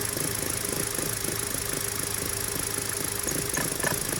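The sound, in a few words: car engine idling with a misfire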